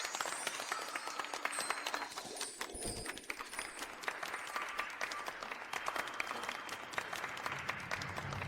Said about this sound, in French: Et maintenant, avec nos plus chaleureux applaudissements,